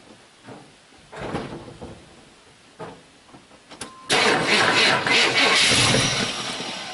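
A truck with a low battery cranks and then fires up, with a few faint clicks and door or cabin knocks before a sudden loud, steady engine roar that runs to the end.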